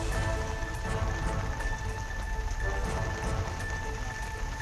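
Heavy, unrelenting rain pours down in Ponneri, Tiruvallur district, a dense, steady hiss of water hitting surfaces that stays loud and continuous, with no voices.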